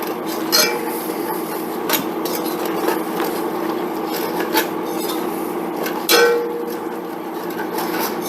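A spoon scraping browned bits off the bottom of a pot while stirring a roux for chicken étouffée, with repeated rasping strokes and occasional knocks against the metal, close and fairly loud.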